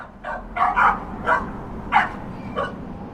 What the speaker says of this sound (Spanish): Entonces le llevaron un perro.